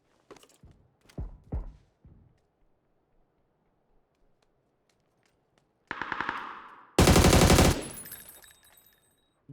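Gunfire in the video game PUBG: a few scattered single shots early on, then after a quiet stretch a sudden loud close burst of rapid automatic fire, with no talking over it.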